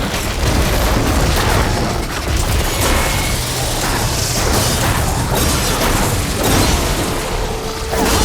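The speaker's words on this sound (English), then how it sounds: "Detonated!" Explosion detonating in the video game Horizon Forbidden West, a loud, dense roaring blast that fills the whole stretch with rumble and crashing debris-like noise, continuous and close.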